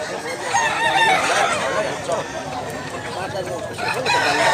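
Gamefowl roosters crow repeatedly with clucking hens at a farm in Cebu, the calls overlapping continuously and close by, with faint voices in the background.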